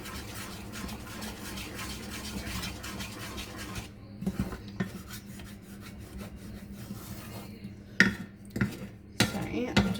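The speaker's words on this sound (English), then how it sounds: "So I'm just going to use a rubber whisk because I don't want to use the other one on this pot." A rubber whisk scrapes and stirs inside a pot, producing continuous rubbing and scraping, then a short pause followed by a few sharper knocks and clatters near the end, close and fairly quiet.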